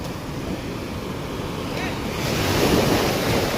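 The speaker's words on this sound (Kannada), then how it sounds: "ಅಲೆಗಳು ನೋಡಿ ಈಗ ಹೆಂಗೆ ಬರ್ತಾ ಇದೆ." Sea waves break and roll onto the shore at Murudeshwar beach, a steady roar of surf with wind buffeting the microphone that swells louder toward the end.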